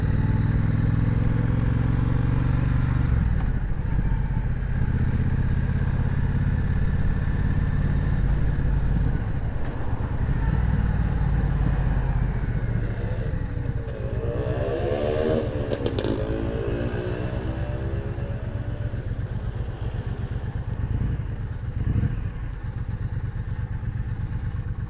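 A new big motorcycle rides and pulls away, its engine a loud, steady low rumble with a rising rev partway through and some mechanical clatter, running continuously without talk.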